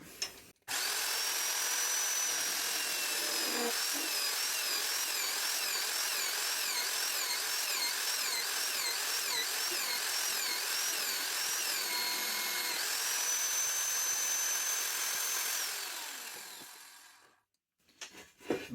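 Magnetic drill boring holes through steel while fabricating a three-point linkage pallet fork and bale spike attachment, cutting fluid applied; a loud, steady high-pitched grinding whine with squealing chatter runs continuously for about fifteen seconds before winding down to silence.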